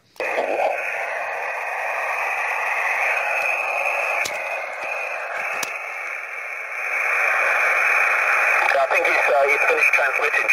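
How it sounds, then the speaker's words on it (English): Weak HF amateur radio signal received at a winter camp, a muffled, barely readable voice buried in steady hiss and static, with faint crackles throughout. "Jonathan, your signal is very weak, about a 1 by 2 or 2 by 2. Very difficult to copy you at the moment"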